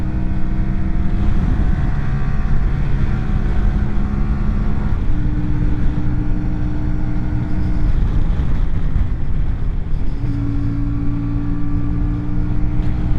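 CFMOTO Ibex 450 adventure motorcycle engine held at full power, a steady loud drone with step changes in pitch as it shifts through gears, continuous without voices.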